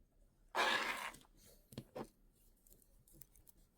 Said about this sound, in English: I'm going to cut those wires off because they're getting in the way.